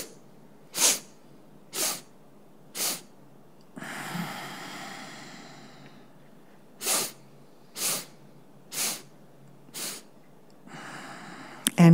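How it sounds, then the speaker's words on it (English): A person breathes through a breathing exercise: sharp, rhythmic nasal sniffs in a steady series, a longer drawn-out exhale in the middle, then more quick breaths, close and alone with no talking. "Exhale in one long breath."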